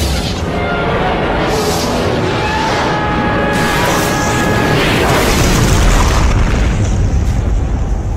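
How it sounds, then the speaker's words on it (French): Heavy, continuous booming gunfire from an anti-aircraft gun in a war film battle scene, loud and dense throughout with overlapping blasts and rumble. "Faut faire taire ce canon anti-aérien."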